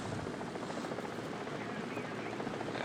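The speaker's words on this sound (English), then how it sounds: "Ooh, helicopter." A helicopter in the War Thunder video game flies nearby, its rotor making a steady, dense chopping drone that holds at an even level throughout with no talk.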